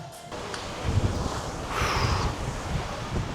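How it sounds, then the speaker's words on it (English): Gusty outdoor wind buffeting the microphone in Marbella, rising and falling in loud rushing bursts with no voices. "It's very windy now."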